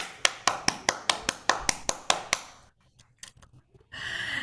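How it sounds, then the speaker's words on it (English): Clapping at a summit gathering: a dozen sharp, evenly spaced claps, followed by a few scattered softer claps and then a louder burst of crowd noise. "A round of applause to everybody who's over here."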